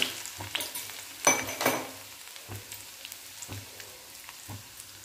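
Crushed garlic hitting hot oil already crackling with cumin and mustard seeds, a soft continuous sizzle with scattered pops and a brief louder flare, close and moderately quiet with no talking.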